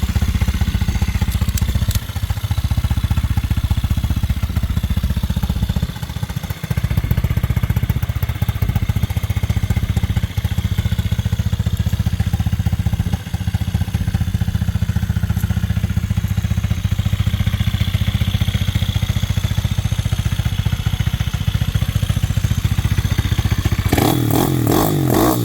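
A custom-built Thumpstar 160cc pit bike on a billet frame runs close by, its single-cylinder engine chugging steadily for the whole stretch with slight clattering and a brief change in tone near the end.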